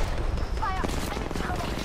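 Rapid gunfire in the Apex Legends battle on the Olympus map rattles densely over a loud, busy game mix, with voices talking over the shooting.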